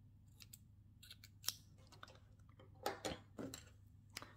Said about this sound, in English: then you can cut the yarn, bind off,